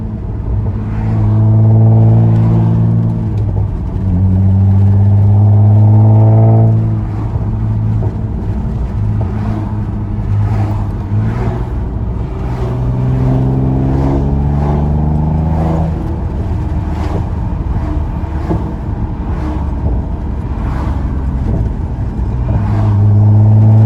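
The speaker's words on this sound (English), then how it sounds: "can you guys hear the pops?" A 7th-generation Nissan Maxima with an aftermarket modification revs repeatedly, its loud, close engine surging and falling in several rising sweeps with faint crackling pops in the exhaust between revs.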